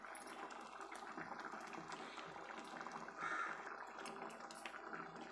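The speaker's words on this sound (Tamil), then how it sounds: "இது ஒரு கொதி வரட்டும்." Pot of sambar simmering on the stove, a soft continuous bubbling and gentle liquid churn, faint and close with no talk.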